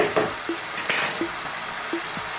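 Pumpkin is stirred into a mild Ethiopian beef stew in a pot, giving a loud, constant sizzle. Several short knocks of a utensil against the pot come at a loose, regular pace.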